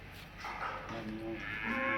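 A large dairy cow lows on a Pakistani farm, a drawn-out, moderately close moo swelling over faint outdoor background noise.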